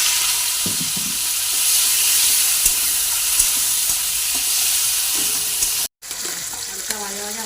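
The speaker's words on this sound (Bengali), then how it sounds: "হালকা ভেজে নেবে।" Shrimp and dried red chili sizzling in hot oil in a pan for kochu pata chingri, a loud, steady close frying hiss with stirring scrapes and a brief dropout near the end.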